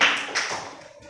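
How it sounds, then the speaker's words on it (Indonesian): Students in a school classroom clap their hands together in a short, loud burst that quickly fades. "Tepuk tangan semuanya."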